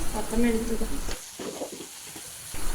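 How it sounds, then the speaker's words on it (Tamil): Tomatoes, peas, paneer and spices fry in a pan for broccoli paneer burji, giving a steady close sizzle with scraping stirring, louder at first, then softer. "எல்லாத்தையும் போட்டு நல்லா ஃப்ரை பண்ணிக்கலாம்"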